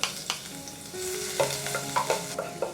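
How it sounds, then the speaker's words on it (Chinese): Garlic stir-fried in a clay pot gives a close hiss of hot oil, broken by several sharp scrapes and clinks of a utensil against the pot; the clip is short and has no voices. "我们取个砂锅，先爆香蒜蓉"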